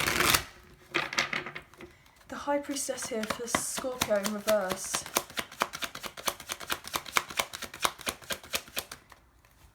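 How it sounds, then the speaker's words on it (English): Tarot cards are shuffled in quick riffling bursts and rapid flicking taps, close up, while someone talks over parts of it. "I'm going to do one more shuffle"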